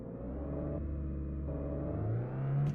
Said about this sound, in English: Funny how the engine's revving.